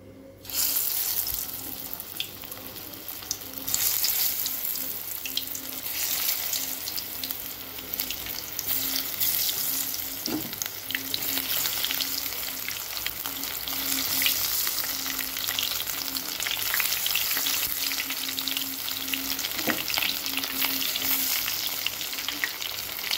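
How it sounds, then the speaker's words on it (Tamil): Soya chunks deep frying in hot oil make a loud, unbroken bubbling sizzle with faint scattered crackles, and no voices. "இப்போங்க நம்ம 1 சோயாவை எடுத்து எண்ணெயில் போட்டுக்கலாங்க."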